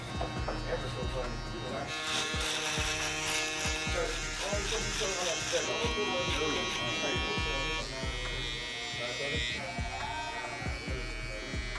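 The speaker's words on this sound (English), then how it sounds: "We're just gonna go ahead and shave the sides too, guys, while we're here." Electric shaver buzzing steadily while shaving the sides of a haircut, a close continuous hum that shifts in pitch as it moves, with a person talking over it.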